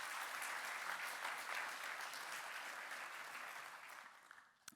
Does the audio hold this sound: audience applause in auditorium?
yes